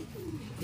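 A crested pigeon gives a short, soft coo close by, with someone speaking briefly over it.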